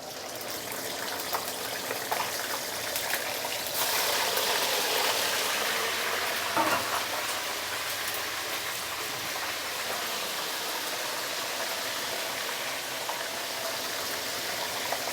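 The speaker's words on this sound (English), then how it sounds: "I'm going to fry this side leave it like that for at least about 1 minute to 2 minutes" Fish deep frying in oil heated to 180 degrees for a stew, a steady dense crackling hiss that runs loud and unbroken throughout, with no voices.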